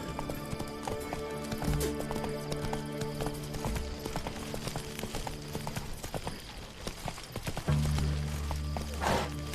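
Roach, the horse in The Witcher 3 video game, gallops with a steady, rhythmic clip-clop of hooves close by, alongside game music and a brief whinny-like flourish near the end.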